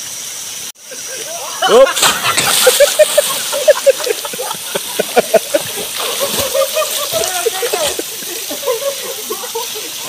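Steady rushing water of a waterfall at an inland resort in Canlaon City, Negros Oriental, with splashing close by and people talking and calling out over the constant roar.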